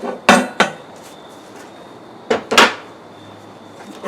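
A metal yoke tool from a Borg Warner 1305/1339 Quadratrac transfer case rebuild is picked up and set aside, giving a few sharp, close clanks in two quick pairs with quiet gaps between.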